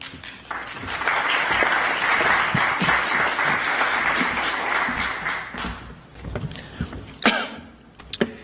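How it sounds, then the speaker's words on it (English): Audience applause at a public event on the criminalization of mental illness, a dense burst of clapping lasting about five seconds, then thinning into a few scattered claps, taps and coughs. "Just want another round of applause for Trisha."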